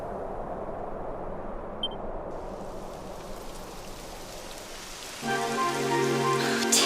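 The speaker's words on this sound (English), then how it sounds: "It would have to go and start raining, wouldn't it?" Steady rain falls in the fantasy role-playing game Dragon Quest XI, a soft continuous hiss that thickens after a few seconds, joined by layered in-game music tones entering partway through.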